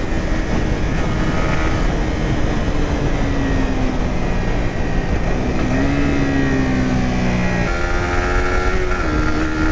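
A 150cc motorcycle engine while riding, a loud steady drone under heavy wind rush with rising and falling engine tones as the revs shift, no talk.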